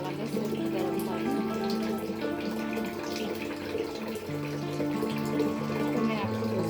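Hot water streams and splashes steadily into a container while making a natural hair-washing powder, with a continuous trickling pour under someone speaking.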